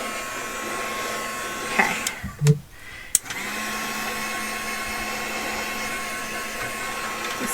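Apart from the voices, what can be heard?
heat tool blowing hot air to melt craft material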